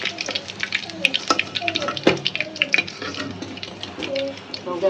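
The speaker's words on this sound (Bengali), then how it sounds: "এই যে দেখেন আমরা এগুলো ভাজতেছি" Chicken nuggets frying in hot oil in a home kitchen give off a steady close sizzle with scattered crackles, pops and the clatter of utensils, with faint voices at times.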